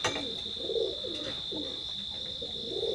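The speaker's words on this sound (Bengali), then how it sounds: "তো কবুতরগুলো একটু খেয়াল করবেন।" Imported bloodline teddy pigeons cooing nearby, repeated low soft coos in a steady rhythm over a constant high electrical whine.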